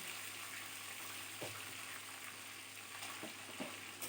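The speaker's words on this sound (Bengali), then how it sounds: "ডিমগুলোকে ভালো করে লবণ আর হলুদ দিয়ে মাখিয়ে নিয়ে একটু হালকা করে ভেজে তুলে নিচ্ছি" Eggs coated in salt and turmeric frying lightly in a pan, a faint steady sizzle with a few soft clinks, quiet and close, no talking.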